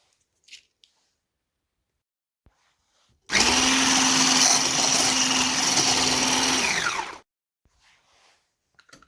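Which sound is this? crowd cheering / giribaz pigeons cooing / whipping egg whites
whipping egg whites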